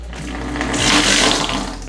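Water gushes steadily from a newly fitted mixer tap during a radiator and spotlight installation job, a close, continuous broadband rush that swells slightly mid-way, with no talking.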